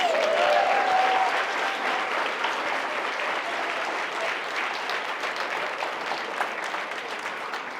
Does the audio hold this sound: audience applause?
yes